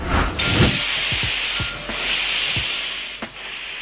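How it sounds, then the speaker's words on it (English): A steam locomotive hisses loudly and continuously, broad rushing steam close by with a few low chuffing thumps and rubbing mechanical sounds beneath, and no voices. "Steam locomotive."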